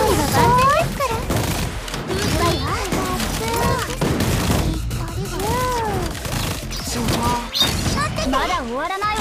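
Rapid bursts of crackling video game fireworks explode and bang in quick succession, dense and loud, with a voice speaking amid the clatter during a Blue Archive raid battle.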